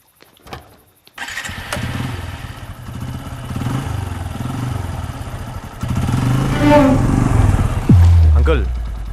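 A motorcycle engine starts with a clatter, then runs at a steady idle before revving louder near the end. Voices are heard over the engine throughout.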